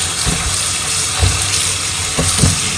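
Black nightshade greens being washed under a running tap, with a loud, steady rush of water and a few soft splashes and thumps as the leaves are handled.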